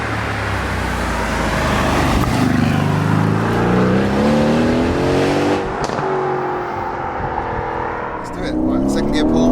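A twin-turbo 503 bhp V8 Aston Martin Vantage accelerates hard from inside the car, its engine note rising through the revs, dipping briefly at a gear change, then climbing again, loud and steady.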